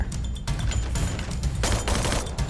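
Rapid bursts of video game gunfire crackle continuously, loud and dense, overlapping shots with no pauses.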